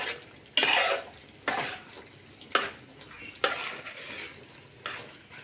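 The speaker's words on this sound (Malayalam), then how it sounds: "നമുക്ക് നല്ലപോലെ ഒന്ന് ഇളക്കിയിട്ട് കൊടുക്കാം" Beef curry being stirred in a pot: about six distinct scraping, clattering strokes of a spoon against the metal pot, each followed by a softer rustle and a gentle sizzle, close and moderately loud.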